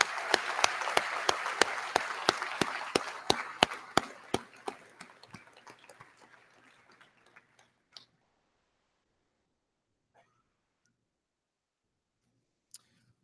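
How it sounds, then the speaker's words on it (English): Applause from a commencement ceremony audience, dense rhythmic clapping with strong individual claps that thins and fades over several seconds, then leaves near silence with a couple of isolated late claps. "Let's give them a really big round of applause."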